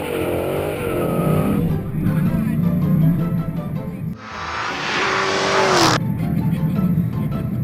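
A Dodge muscle car spins donuts, its engine roaring and droning while the tires squeal and skid in long rising whines, loud and close, with a short lull before another sharp screech.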